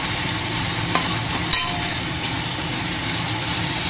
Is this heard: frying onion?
yes